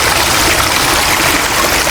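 Running water from a stream flowing along a forest trail on the trek to Curug Luhur waterfall in Cianjur, a steady, fairly loud broadband rush that holds even throughout with no voices.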